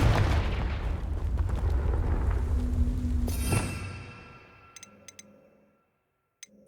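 Confringo fire spell explosion in the Hogwarts Legacy video game: a loud, rumbling blast that rolls on for a few seconds, then fades into a quiet tail with a few faint clinks.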